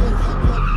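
A Mercedes-Benz drifting through Times Square, its tires squealing in a loud, continuous skid with engine roar underneath, close and dominant.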